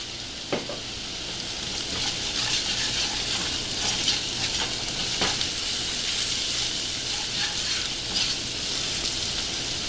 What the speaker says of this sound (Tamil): இந்த எண்ணெயிலே கொஞ்சம் வதக்கிடுங்க.